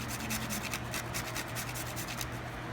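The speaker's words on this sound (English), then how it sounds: "So this is what nutmeg looks like. I'm just going to grate it with my same device." Whole nutmeg rubbed against a grater, a steady run of close, raspy scraping strokes repeating quickly and evenly, heard alone.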